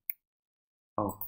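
A computer mouse clicks, one sharp tick followed a moment later by a second, slightly fuller click, close by with silence in between.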